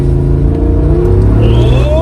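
A Jeep JL Rubicon 392 V8 on long-arm lift and 37-inch tires accelerates on a test drive. A deep, loud engine rumble rises in pitch, heard close and continuous with no talk.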